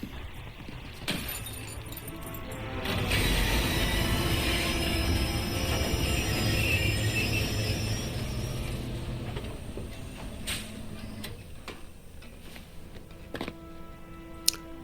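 Train rolling through a level of the Hitman III video game, a steady rumbling run with rattling, clinking metal and wheel squeal that swells after a second and fades toward the end.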